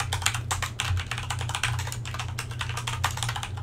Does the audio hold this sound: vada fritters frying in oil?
no